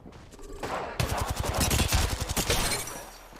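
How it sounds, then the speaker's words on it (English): Rapid automatic gunfire in the Apex Legends battle royale game, a close, loud burst of fast regular shots rattling for about two seconds amid other weapon noise. "Shooting at me. Shooting."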